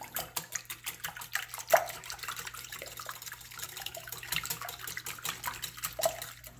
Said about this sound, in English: we're going to whisk these together before we add our other ingredients